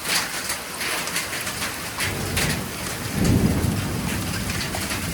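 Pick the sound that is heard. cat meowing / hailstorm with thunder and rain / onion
hailstorm with thunder and rain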